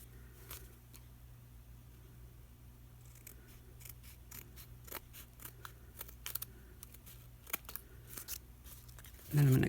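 Scissors snip through a paper page in a budget journal, a series of crisp close cuts in an irregular rhythm over a quiet background, ending with a louder rustle.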